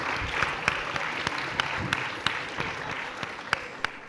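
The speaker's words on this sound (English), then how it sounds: "a round of applause" Audience applause, a moderate, steady patter of many hands clapping at middling distance, with a few sharper individual claps standing out.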